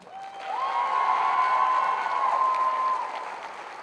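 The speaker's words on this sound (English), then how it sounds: "One more round of applause for our band." A concert audience applauds for the band at an outdoor Pie Night event at historic Owens Field, with a steady wash of clapping and some cheering that swells, holds, then tapers off, while a faint sustained tone sounds underneath.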